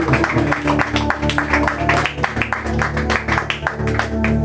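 A church congregation applauds during a prayer and fasting service, with loud, dense clapping that keeps up steadily throughout over sustained organ or keyboard tones.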